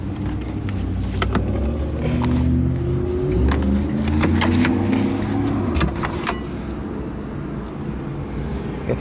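A 1969 Ford Galaxie 500 convertible with a 390 engine lowering its power top: a steady low mechanical motor drone with shifting whine and hum running throughout, continuous and fairly loud, with no talking.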